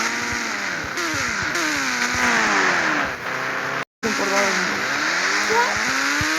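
A car engine roars continuously at high speed, revving up and down with shifting pitch and occasional tire squeal, loud and close, with one brief dropout near the middle.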